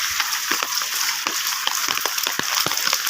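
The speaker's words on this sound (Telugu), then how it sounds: "గాలి వాన బీభత్సంగా పడుతూనే ఉంది. ఫ్రెండ్స్ మీరు చూస్తున్నట్టు మా పెంకుల సౌండ్ మాత్రం ఘోరంగా ఉంది" Heavy wind-driven night rain pounding clay roof tiles in Hyderabad, a loud continuous hiss broken by irregular thumps and patters of larger drops close by.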